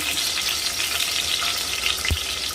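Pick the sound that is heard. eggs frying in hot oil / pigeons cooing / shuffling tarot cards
eggs frying in hot oil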